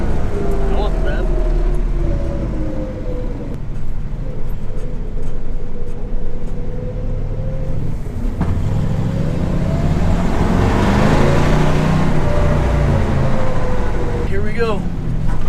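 A 1966 car engine runs and struggles to rev, rising and falling in a loud rumbling drone during a long drive, with voices talking over it; no distinct backfire pops stand out.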